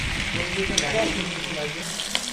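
Chicken pieces and potatoes fry in oil in a pan for chicken kosha, giving a close, steady sizzle with small pops and occasional clinks.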